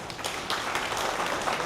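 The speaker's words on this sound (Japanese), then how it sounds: "皆様温かい拍手をよろしくお願いします" Audience applause at an 88th birthday party, a steady wash of many hands clapping together, moderately loud and sustained throughout without pauses.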